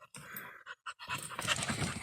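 A small dog pants close by in quick, rhythmic breathy bursts that grow heavier and more continuous toward the end, with no one talking.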